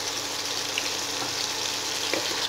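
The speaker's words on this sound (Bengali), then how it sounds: "এইবারে হিটটা আমি বাড়িয়ে 2 থেকে 3 মিনিট একটু ফ্রাই করব।" Mixed vegetables of beans, carrot and capsicum stir-fry for noodles over raised heat, giving a steady, close sizzle that runs without a break and has faint clinks of stirring mixed in.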